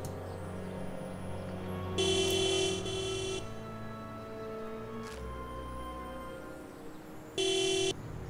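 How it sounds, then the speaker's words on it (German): A DeLorean's car horn in a Back to the Future video game honks twice in short electronic-sounding blasts, about five seconds apart, over a steady low engine hum and background game music. "Hupe."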